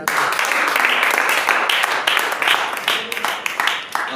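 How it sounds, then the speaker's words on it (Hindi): Church congregation applauding, a dense, sustained wash of many hands clapping indoors, fairly loud, with voices mixed into the clapping. "ताली बजा सकते हैं"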